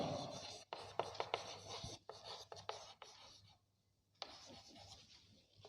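Pen or chalk writing out a maths formula during a lesson, with soft scratchy strokes in short bursts separated by brief pauses, close and fairly quiet.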